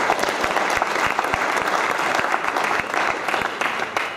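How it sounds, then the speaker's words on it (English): Conference audience applauding a presenter at a tech event, a crowd's clapping with distinct sharp individual claps standing out over a continuous bed of hand noise, fairly loud and sustained for about four seconds. "Let's give him a round of applause."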